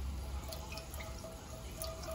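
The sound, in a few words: pouring chicken broth into a pot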